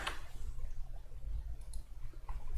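A few faint, sharp computer mouse clicks sound sparsely over a quiet low hum.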